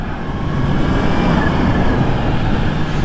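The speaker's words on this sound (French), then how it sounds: "Vous entendez ce bruit de compresseur là?" A Kawasaki Z H2 supercharged motorcycle is ridden on cold tyres, its engine and wind making a loud, constant roar with a thin supercharger whine running through it.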